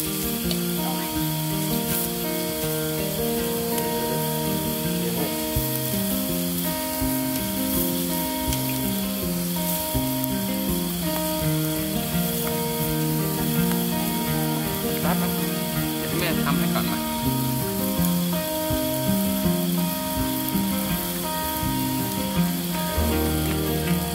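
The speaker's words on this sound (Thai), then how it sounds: "เดี๋ยวตั้งเตาหมูนะอ่ะเดี๋ยวก็จะเริ่มปิ้งย่าง" Pork sizzles continuously on a hot grill pan at a campsite, with loud frying crackle throughout and music or voices faintly underneath.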